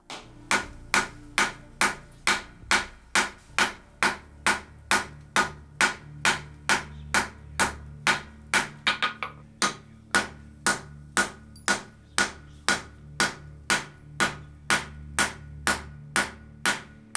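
Steady, evenly paced hammer blows ring out one after another, some thirty strikes, as a forge-welded steel billet is drawn out on an anvil; each hit is loud and close with a bright metallic clang.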